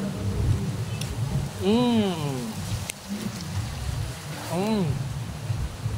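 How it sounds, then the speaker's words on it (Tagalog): Heavy rain pours steadily and close, a dense hiss of drops drumming on a surface, while someone speaks over it at intervals. "Lumalakas ng ulan mga kaibigan"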